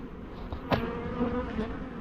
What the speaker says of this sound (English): look, that sneaky little bee went in there